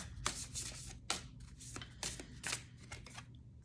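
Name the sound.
shuffling and drawing Angel of Light oracle cards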